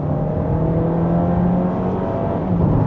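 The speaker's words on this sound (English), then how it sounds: "the engine sounds awesome even for a 2-liter natural aspirated motor." A Honda ZR-V e:HEV with its 2.0L naturally aspirated hybrid engine accelerates at about 80% throttle in sport mode, a close, steady, rising engine drone heard from inside the cabin without talk.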